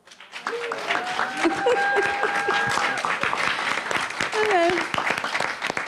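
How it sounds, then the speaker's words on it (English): An audience claps steadily, a crowd applauding for several seconds, with tonal sounds and voices mixed in over the clapping. "Can we give them a round of applause?"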